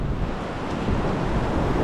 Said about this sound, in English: We're just gonna keep our eye on the waves, and if a real big one comes, we can always just run back a bit.